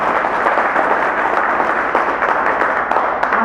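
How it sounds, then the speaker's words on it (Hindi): An audience claps continuously at a Jain religious discourse, producing a dense, steady, fairly loud wash of applause that holds its level for the whole stretch. "अच्छी सी तालियां हो,"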